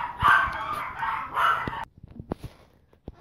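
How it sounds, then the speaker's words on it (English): Small puppies yapping indoors in a loud, high-pitched burst lasting about two seconds, followed by a few quieter, scattered yips. "Excuse my puppies."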